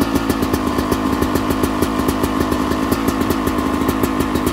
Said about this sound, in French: on va laisser chauffer la moto tranquille et puis c'est parti. On va laisser chanter le 2 temps.